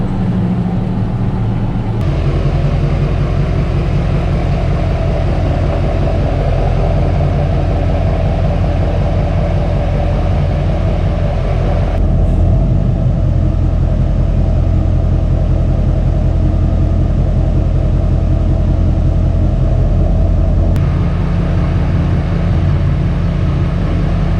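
A farm tractor's engine runs loud and close in a steady, deep rumbling drone with no pauses, a continuous low mechanical throb throughout.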